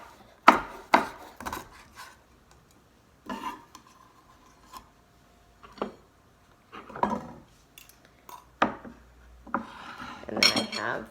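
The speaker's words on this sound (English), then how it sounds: "Just cutting some asparagus." A knife cutting asparagus on a board: sharp, close clicks and taps of the blade striking the board in irregular bursts, with quiet pauses between the cuts and no talking.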